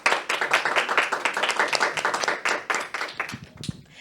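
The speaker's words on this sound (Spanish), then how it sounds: "pido un fuerte aplauso" Clapping from a small audience at a Catholic talk show, close and distinct individual claps in a brisk stream that loosens and fades out over the last second.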